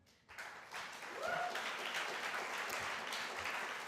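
An audience at a poetry reading claps after a chancellor is introduced, the applause swelling within half a second into a dense, steady wash of many hands that keeps going to the end.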